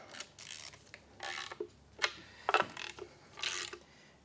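A hand ratchet snugging the timing cover bolts on a Ford 5.4L 3V engine clicks in several short bursts, close and moderately loud, with brief pauses between strokes and no talking.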